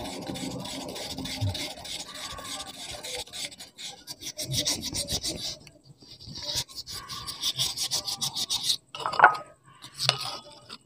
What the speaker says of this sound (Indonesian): Jadi diamplas sampai dia halus ya, sampai hilang baret-baretannya ini teman-teman ya.